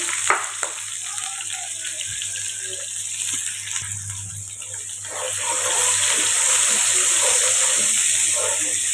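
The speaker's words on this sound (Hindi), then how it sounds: "प्याज को हम तकरीबन 3 से 4 मिनट के लिए फ्राई कर लेंगे अच्छे से।" Onions hit hot oil and fry in a pan, a hissing sizzle that grows denser and louder in the second half, heard close with a steady background hum and no talk.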